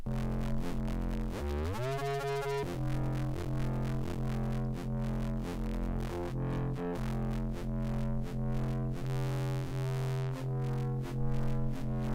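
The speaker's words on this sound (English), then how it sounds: "So we're gonna move a distortion here." A distorted synth bassline from the Phase Plant synth in Bitwig plays continuously, with a pitch sweep rising near the start and then a steady, gritty, sustained low tone with a buzzy upper edge.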